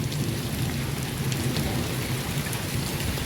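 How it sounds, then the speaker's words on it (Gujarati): A steady, loud downpour of rain with thunder and gusting wind in a storm in Bagasara, a dense unbroken roar of drops with low rumbles beneath, no voices. "પવન ગાજ વીજ સાથે વરસાદ."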